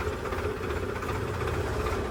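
A modified tractor engine idles with a steady, dense low rumble and constant vibration, heard close and unbroken throughout with no talking.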